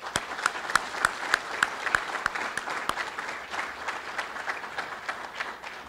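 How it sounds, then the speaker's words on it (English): An audience at a 2023 Hall of Fame induction ceremony applauds steadily, with many hands clapping in a dense, moderately distant wash and some sharper individual claps standing out. "let's give one more round of applause for our 2023 Hall of Fame class and the 1998 National Championship softball team"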